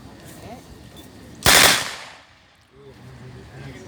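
A Russian PPSh submachine gun fires one short, loud, rapid burst at a World War Two reenactment weapons demonstration, followed by a fading echo and faint background voices.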